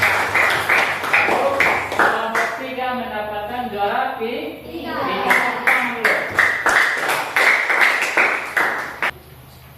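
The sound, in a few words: class applauding group 4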